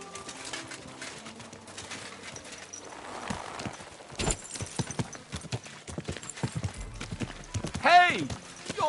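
Horse hooves clip-clop in a steady rhythm in the video game Kingdom Come: Deliverance II, joined by a sharp whinny near the end, with scattered voices and bird sounds around them.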